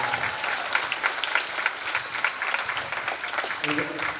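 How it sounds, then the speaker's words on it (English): An audience at a county volleyball tournament awards ceremony claps steadily, with dense close applause filling the whole moment. "Let's give our all-county team another round of applause."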